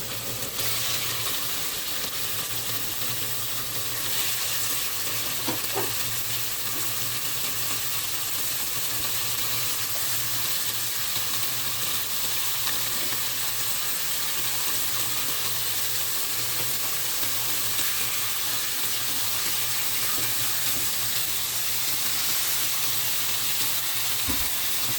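Chicken frying in a pan gives a steady, even sizzling hiss that runs unbroken throughout at moderate loudness, with no talking.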